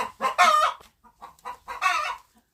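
A broody hen sitting on eggs clucks in a few short, throaty bursts with brief pauses between them, close by and clear, with no talking.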